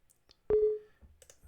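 A computer mouse clicks the run button while installing GIMP, giving one sharp, close click followed by a brief ringing tone that fades within half a second against a quiet room.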